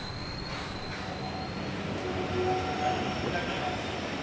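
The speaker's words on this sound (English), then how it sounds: "The train passes the trio of railwaymen who take charge of the return trip to Didcot." The restored 6024 King Edward I steam locomotive rolls past with a steady, moderately distant rumble and rail noise, fairly quiet overall with no talk.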